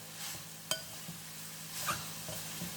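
Soya chunks fry in hot oil in a pan for soya varuval, a quiet, steady sizzle broken by a few sharp clinks and scrapes of a stirring utensil.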